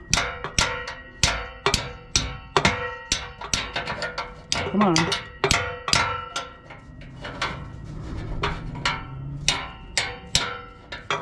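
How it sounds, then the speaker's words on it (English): Repeated ringing metal clangs from a hammer strike at a steady rhythm, loud and close, with a brief spoken remark partway through. "I'm not holding the hammer correctly by the handle at the very end"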